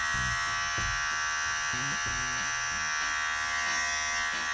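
Cordless hair clippers buzz close up with a steady, high, even electric whine, while a few faint low knocks and handling sounds sit underneath.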